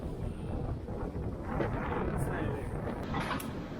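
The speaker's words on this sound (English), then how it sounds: "We have quite strong wind, I don't know if you can see it, but we got about 23, 24 knots." Strong wind of about 23 to 24 knots buffeting a sailing yacht at sea, a loud continuous roar and rumble with gusty swells and brief higher hisses, alone without talk.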